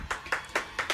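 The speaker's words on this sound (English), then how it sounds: "Both of y'all give me a round of applause" A small round of applause from a couple of people, heard as four or five separate bursts of clapping spread across a single second, close by and fairly quiet.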